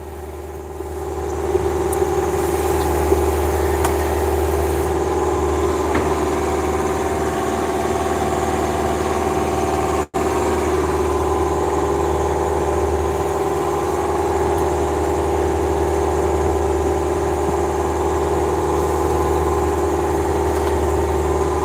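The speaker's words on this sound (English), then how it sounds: "hopefully the engine noise is going to be what it is" A sailboat's inboard engine runs steadily while under way on a passage from Fiji to Vanuatu, a constant droning hum with a low throb holding unchanged from start to finish, loud and close.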